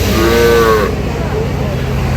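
A loud, close cow moo rises and falls over a busy outdoor livestock market crowd murmur, followed by softer background chatter.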